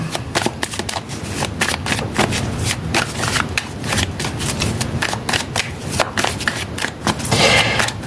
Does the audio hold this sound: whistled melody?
no